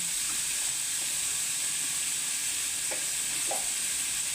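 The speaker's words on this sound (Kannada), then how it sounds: "ಹಾಕಿ ಸ್ವಲ್ಪ ಫ್ರೈ ಮಾಡ್ತೀನಿ" Steady, close sizzling of frying in a pan with turmeric powder, an even hiss with a few soft clicks and stirs running throughout and no voices.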